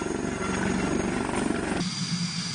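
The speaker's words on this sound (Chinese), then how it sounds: "学员驾驶刚刚列装的某新型舰载直升机依次起飞" New ship-borne naval helicopter taking off during naval aviation university training, with a loud, steady roar of rotor and turbine that drops sharply near the end.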